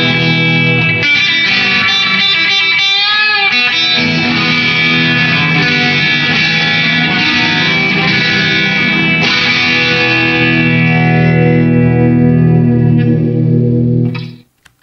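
Distorted electric guitar, played through the impulse response of St. Patrick's Church in Patrington, rings out loud and sustained with heavy reverberant wash, then cuts off near the end.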